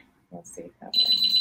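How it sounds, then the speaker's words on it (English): A high, steady electronic alarm tone from a neighbouring building cuts in after a short spoken phrase and holds on continuously at moderate loudness behind the room. "Sorry for that beeping too, because that's the other building."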